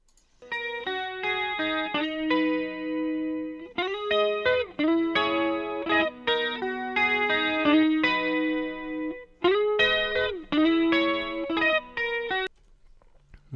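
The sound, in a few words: audio processed through FET compressor plugin, Slate Digital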